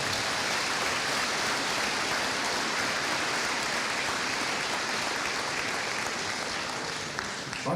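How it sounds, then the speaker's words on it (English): Sustained, dense applause from a high school graduation ceremony audience, a steady wash of many clapping hands with no breaks that fades slightly right at the end. "Let's give them one more round of applause."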